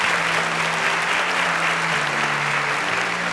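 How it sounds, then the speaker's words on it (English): A studio audience at a televised competition show gives a sustained, even round of applause for a departing contestant, loud and dense throughout, with a low hum underneath. "A round of applause for Abigail."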